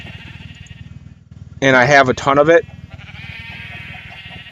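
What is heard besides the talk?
sheep bleating in Minecraft (Galacticraft) video game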